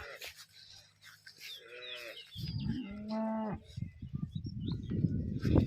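A cow on a farm moos several times, near and clear, with drawn-out lowing calls. Quieter animal and farmyard sounds fill the gaps between the moos.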